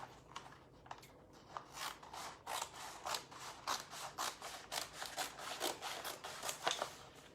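Scissors trim paper for a DIY mailbox craft project, making a quiet, close series of crisp snips that quicken into a steady rhythm of repeated cuts.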